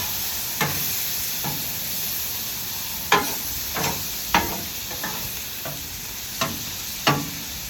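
Shrimp and asparagus frying on a Blackstone griddle, a steady close sizzle with scattered sharp scrapes and taps of a spatula on the flat top, no one talking.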